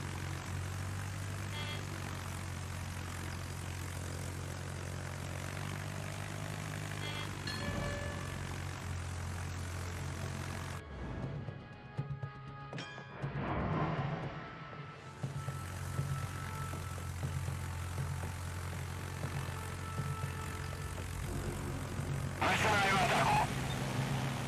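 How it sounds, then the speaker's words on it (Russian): Fighter aircraft in World of Warships take off from a Nakhimov carrier, a propeller-engine drone rising and fading over game music, with a brief quiet gap midway; someone speaks Russian over it. "Истребитель взлет произвел."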